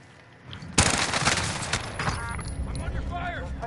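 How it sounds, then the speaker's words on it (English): Gunfire from a Call of Duty match erupts after a quiet start, a dense burst of rapid shots that rolls on as continuous fusillade, with faint voices underneath. "I'm under fire!"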